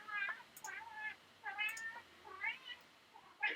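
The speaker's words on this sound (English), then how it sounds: "I don't know if you can hear my cat in the background," A house cat meowing repeatedly, four or five separate rising cries in close succession, clear and fairly near in a quiet room with no other sound.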